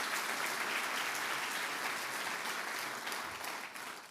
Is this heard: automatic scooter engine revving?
no